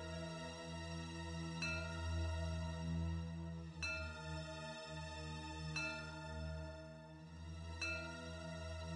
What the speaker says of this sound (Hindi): ये तो किसी घंटे की आवाज है